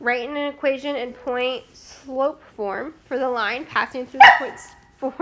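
A pet dog barks and yips in a home in repeated short bursts, close by, mixed in with a person speaking continuously over it.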